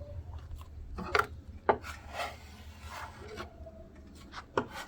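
Filler material being scraped onto a wooden shutter in rough, repeated strokes that rasp and rub across the wood surface, close up with no talking.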